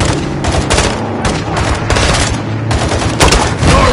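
Rapid gunfire fills a Modern Warfare 2 video game battle, dense overlapping bursts of automatic rifle and machine gun shots crackling loud and close without a break, with heavier thumps mixed in.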